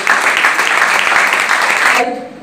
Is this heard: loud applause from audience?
yes